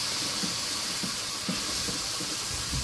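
Tomato paste frying in a pan for a home-cooked dish with magur fish, a steady loud hiss and sizzle with faint bubbling pops throughout.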